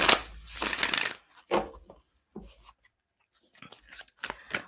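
Tarot and oracle cards being shuffled by hand during a full moon reading, several quick riffling bursts of card noise, close and fairly loud at first, then softer scattered shuffles with short pauses between them.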